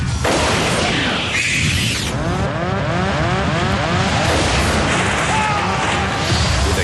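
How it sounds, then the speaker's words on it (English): In a dramatized scene, an airliner's cockpit windscreen blows out at 17,300 feet as a loud, sustained roar of rushing wind and violent rumbling fills the cabin without letup, with a sharp burst near the start. "With a huge explosion, the captain's windscreen blows out into the sky."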